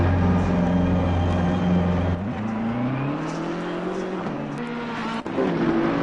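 A BMW race car in Assetto Corsa Competizione at Oulton Park drones loudly and steadily, its engine pitch holding, dipping on a gear change, then climbing again, with no break in the sound.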